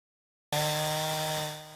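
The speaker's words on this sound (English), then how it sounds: "The roar of the chainsaws" A chainsaw starts up abruptly and roars steadily at high, even revs, clearing fallen trees after Hurricane Beryl; the engine drone sounds fairly near and continuous, easing slightly at the end.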